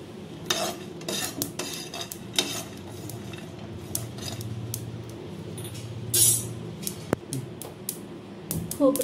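Peanuts and sesame seeds dry-roasting in a pan while a metal spoon stirs, with repeated scrapes, clinks and rattles against the pan over a faint background hiss, close up and without talk.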